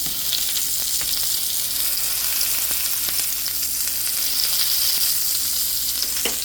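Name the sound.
hamburger meat frying in pan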